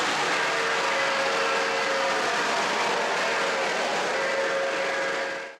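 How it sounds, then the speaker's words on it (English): Steady, dense rushing rumble of a model freight train running continuously without a break, loud and close, cutting off abruptly at the end. "I thought it would be fun to run some fast freight trains."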